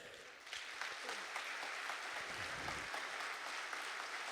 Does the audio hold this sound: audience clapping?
yes